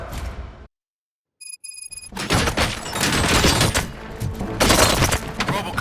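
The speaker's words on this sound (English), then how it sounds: "Gunshots? What's going on?" Gunfire erupts in the first-person shooter game Robocop Rogue City after a brief silence and a synthetic beeping tone, then sustained loud bursts of shots and impacts continue to the end.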